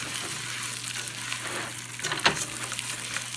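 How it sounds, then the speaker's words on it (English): Rice stirred around in hot butter and fat in a pan gives a steady close sizzle, with soft scraping stir strokes and one sharp clack of the utensil near the middle. "we're going to keep moving the rice around"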